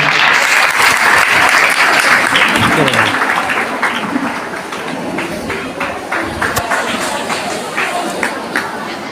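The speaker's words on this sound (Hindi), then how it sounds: "एक बार जोरदार ताली करें।" Loud, sustained applause from a sizeable crowd at a school student award ceremony, dense clapping that gradually thins toward the end.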